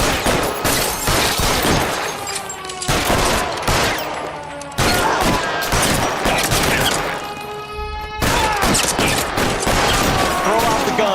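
Sustained covering gunfire in L.A. Noire, dense volleys of rapid shots overlapping into a loud fusillade with brief gaps, close and continuous over about eleven seconds.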